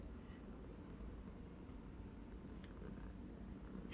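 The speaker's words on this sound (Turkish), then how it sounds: "British Rus kedisi." A British or Russian breed cat purrs steadily and close up, a continuous low rumble lasting throughout with no talking over it.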